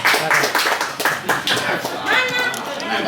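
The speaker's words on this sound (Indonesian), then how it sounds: "Tepuk tangan buat Om Aat." Short burst of hand clapping from a small group at an Indonesian grape-growing award ceremony, brisk and close, with some chatter and a brief chuckle mixed in.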